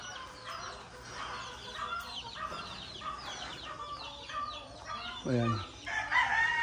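Gamecocks on a farm in Davao crow and cluck at moderate distance, several overlapping calls with a louder crow near the end; a voice briefly speaks over them.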